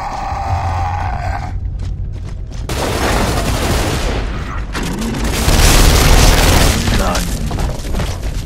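Heavy explosions and bursts of gunfire in the video game Gears of War 2, loud booms and sustained rattling shots in an underground hive battle, with brief quieter gaps between the blasts.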